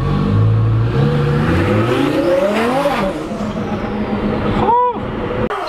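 A twin-turbo Audi R8 roars past at full throttle, its engine note climbing and then falling as it sweeps by close and very loud, fading into the distance before a brief sharp burst near the end.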